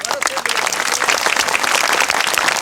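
An audience applauds at an exam-related live event, a dense steady patter of many hands clapping that stays moderately loud throughout with no clear talk on top.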